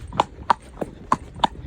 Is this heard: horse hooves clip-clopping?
yes